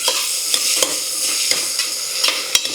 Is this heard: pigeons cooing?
no